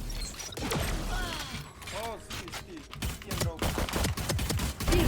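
Gunfire in the Valorant video game: several sharp shot bursts and rapid clattering hits mixed with game effects and rising tones, with someone talking over them.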